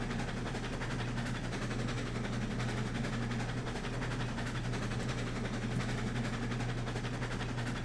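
Train rolling on track in the Railroads Online game, a continuous low rumble with a steady engine hum and faint rhythmic clatter, constant throughout with no talking.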